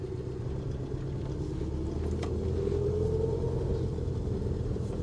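A classic 1960s Austin Cambridge A60 with a three-speed gearbox drives along, its engine a steady low rumble with road noise heard from inside the cabin, constant and moderately loud with no talking.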